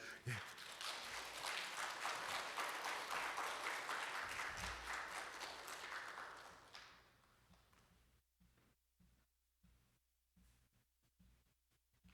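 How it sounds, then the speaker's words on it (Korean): Church congregation applauding to welcome a missionary to the front, a dense, loud burst of clapping that fills the first six seconds and then fades away, leaving a quiet room with a few faint taps. "박수로 우리 선교사님 맞이하면 좋겠습니다"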